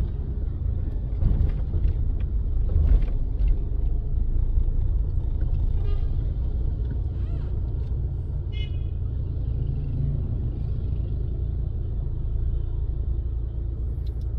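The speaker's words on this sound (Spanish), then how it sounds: "Siento algo de tráfico por el semáforo" Street traffic waiting at a traffic light on the Costera in Acapulco, Guerrero: a steady, loud low rumble of idling and passing cars, buses and trucks, with a few brief higher mechanical squeaks and no talking.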